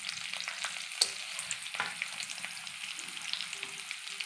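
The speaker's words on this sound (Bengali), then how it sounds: "আমি একটু হালকা করে এটা ভেজে নেব সব কিছু একসঙ্গে" Onion, cashews and garlic frying in a little oil in a wok, giving a steady close sizzle with occasional stirring clicks and scrapes throughout.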